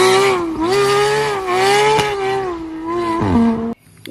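Toy race car engine sound, a loud, continuous buzzing whine with rising and falling pitch sweeps lasting several seconds before cutting off abruptly.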